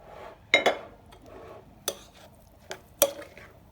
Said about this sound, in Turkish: Bunu karıştıracağım